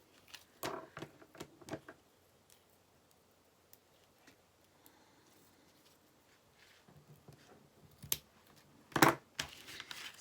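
Scissors snip the end of a ribbon wrapped around a handmade wallet journal, giving a few sharp close cuts with crinkling and handling noise between them and a quiet stretch in the middle.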